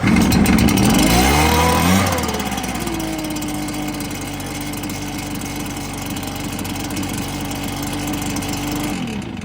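A Stihl BR 450 backpack blower, fitted with a replacement carburettor, runs on half choke: a loud close two-stroke engine that revs high for two seconds, then settles into a steady rough idle with no talk.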